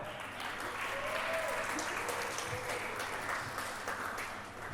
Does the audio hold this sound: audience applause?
yes